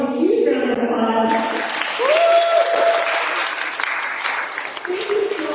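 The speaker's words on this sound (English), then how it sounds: "let's give Helen a huge round of applause" A studio audience applauds an artist in a steady, loud burst of clapping that lasts throughout, with voices and cheers rising through the clapping.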